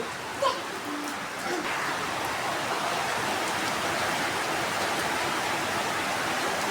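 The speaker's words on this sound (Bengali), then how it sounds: "এই যে বৃষ্টি নামছে জোরে" Heavy rain falling outdoors in the evening, a dense steady hiss that holds constant throughout, with a brief knock near the start.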